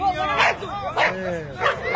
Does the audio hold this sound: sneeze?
no